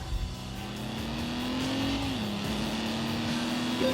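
An Alfa Romeo GTV6 engine in a racing video game revs hard and steadily as it accelerates, with a clear pitch shift at a gear change and a rising drone close and loud throughout.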